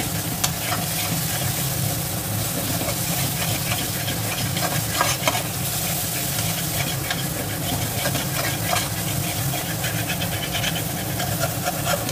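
Kashmiri chili, coriander and cumin powders cook down in a pan for an egg curry, a dense, constant frying sizzle with busy scraping from a spatula stirring throughout, fairly loud and close.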